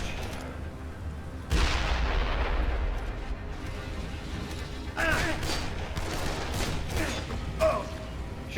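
Gunshots in the Dead Island zombie video game: a few sharp, booming shots ring out at intervals over a steady background of game ambience, each followed by a brief ringing tail.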